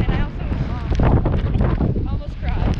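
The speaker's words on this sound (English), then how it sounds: "I'm sorry for the wind." Heavy wind buffets the microphone with a loud, low rumble, while a person talks underneath the roar.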